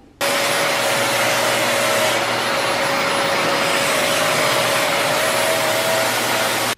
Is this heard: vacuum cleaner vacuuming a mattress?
yes